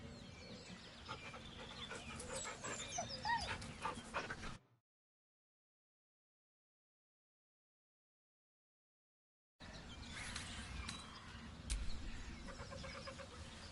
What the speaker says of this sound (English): The dog whimpers nervously,